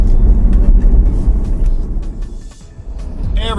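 A car drives along US Route 1 in Aroostook County, Maine, heading for a back road: a steady, loud road rumble with tire and engine noise, heard close from inside and continuous throughout.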